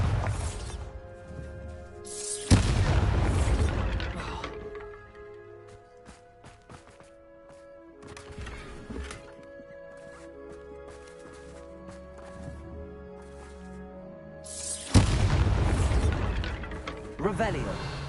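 Bombarda spell explosions in Hogwarts Legacy on PS5, two loud bursts roughly twelve seconds apart with quieter game sounds between them, cast with a spoken spell name.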